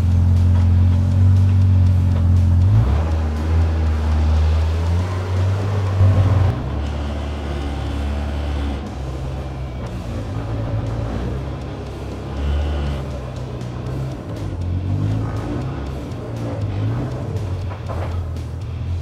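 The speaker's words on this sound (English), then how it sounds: "This thing sounds wicked." A Polaris Pro R side-by-side's loud engine rumbles steadily up close, with a deep low drone that shifts and revs unevenly over the stretch.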